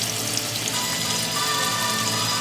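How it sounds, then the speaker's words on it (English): Steady, dense crackling and hissing of butter melting and frying in bacon grease in a pan, close up and continuous, with no voices. "You want it to melt in with the bacon grease. It's going to sizzle and frazzle and all that."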